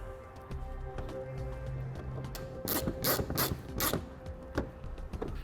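Ratchet tightening 8mm-headed bolts in the fender well of a 2015 Jeep Cherokee, with quick clicking pawl strokes that grow into a cluster of louder, sharper ratchet bursts near the middle, all close up.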